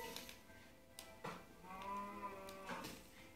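A cow in the video game Minecraft moos once in a drawn-out, wavering low call near the middle, quiet and alone with a few faint clicks around it.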